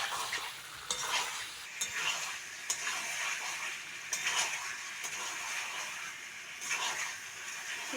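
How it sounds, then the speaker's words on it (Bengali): Chicken pieces stir-fried with spices in a pan, giving a steady sizzle with repeated scraping and stirring strokes at close range, with no voices. "চিকেনটা ভালো করে মশলার সঙ্গে কষে নেবো"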